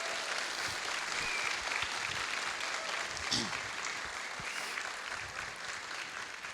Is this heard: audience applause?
yes